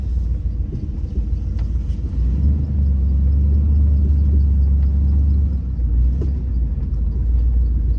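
A deep, steady engine rumble with low idling throb, loud and close, swelling slightly midway before settling back, with no talking.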